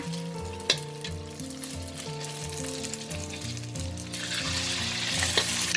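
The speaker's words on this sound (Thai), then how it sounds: "ค่อยๆทอด เราใช้น้ำมันไม่ต้องเยอะค่ะ" Fish skin and seaweed fry in a shallow amount of oil, giving a steady sizzle that swells into a louder, brighter crackle near the end, with music playing underneath and no voices.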